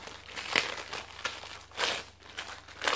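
Gift wrapping crinkles and rustles in three louder bursts as a package is opened, with softer handling noise in between and no talk.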